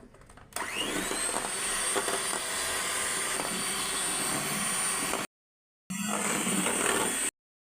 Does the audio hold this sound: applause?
no